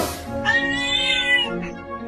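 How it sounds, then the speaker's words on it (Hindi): A small kitten lying on a road after being struck by a car gives one long, loud meow close up, then a shorter, weaker cry trailing off outdoors. "मुझे तो वो बिल्ली का बच्चा लग रहा है।"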